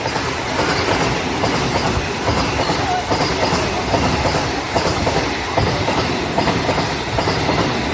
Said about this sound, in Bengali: আমাদের ট্রেন দাঁড় করিয়ে দিয়ে বন্দে ভারতকে পাস করানো হবে